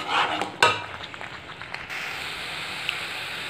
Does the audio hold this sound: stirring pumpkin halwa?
yes